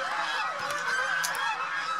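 Geese on a goose farm honk continuously, a dense chorus of overlapping calls, fairly near and loud, with no talk.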